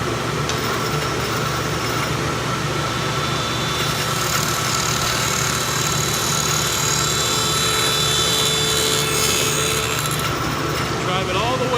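A woodworking machine cutting a rabbet and dado runs at full speed, a loud steady whine and hum close by, with a person talking over the noise at times.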